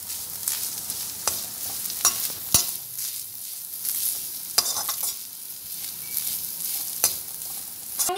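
Grated coconut and curry leaves fry in a pan for a Kerala-style tapioca biriyani, with a steady, soft sizzle broken by sharp clicks and scrapes of a spoon stirring the mix.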